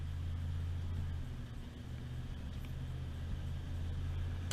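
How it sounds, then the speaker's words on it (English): A 1994 Ford F-250 4x4 pickup's engine pulls at light throttle, giving a steady, close, low rumble with a mild rise in pitch. No one talks over it. "You see it's nice upshift into third."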